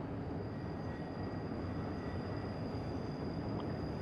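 Train rumbling steadily as it slows into a station on the Albula line in Train Simulator 2016, a continuous low, dense roar with a faint high whine, no voices.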